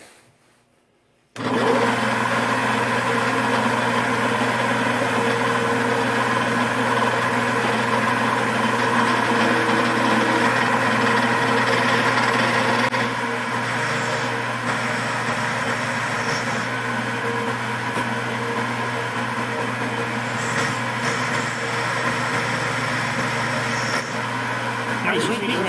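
A machine tool cutting crimper jaws runs with a steady loud mechanical hum and whine after a quiet start, continuing unbroken with slight shifts in tone.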